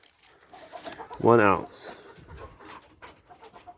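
A farm chicken on an off-grid homestead lets out one loud, brief squawking cluck during morning feeding chores, with a person talking before and after it.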